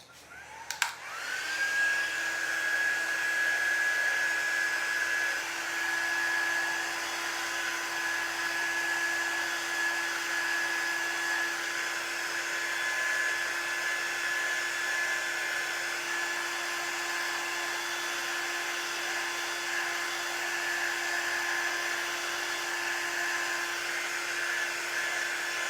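A hair dryer blowing on paper lunch bag gingerbread houses, clicking on and then running as a steady whining whir, close and unbroken for a long stretch.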